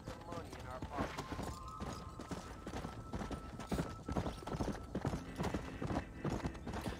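Horses' hooves clip-clop in Red Dead Redemption, a quick uneven clatter of several hoof strikes under game ambience while a character speaks over them.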